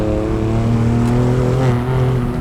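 A BMW M2 Competition engine pulls hard uphill, a loud, steady in-car drone with sustained harmonic tones as the car accelerates, filling the whole stretch without talk.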